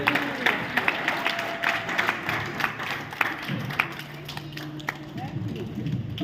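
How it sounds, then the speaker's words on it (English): Scattered clapping from a crowd at a women's societies conference rises and falls, sharp claps repeating unevenly over a busy murmur of voices. "We're supposed to clap more than that."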